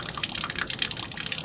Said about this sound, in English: It's draining out from the all the coolant is draining out.